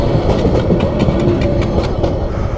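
A long passenger train with many coaches rumbles past a rail crossing in Cox's Bazar, its steady clickety-clack of wheels loud and continuous throughout.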